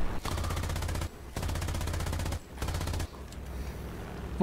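Automatic cannon fire from an IAR-81C fighter in the War Thunder game, heard as three long sustained bursts of rapid shots separated by short pauses, loud and close, with engine drone underneath.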